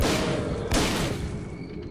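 A gunshot in S.T.A.L.K.E.R.: Call of Pripyat lands as a sharp blast amid dense, loud battle rumble, followed by a decaying roar with no voices.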